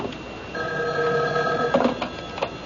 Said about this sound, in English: Excuse me, that's my phone.